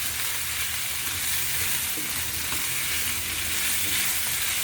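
Pork with white onion and gochujang sizzling and frying in a pan for kimchi jjigae while being stirred, a steady close hiss with faint scraping, no voices.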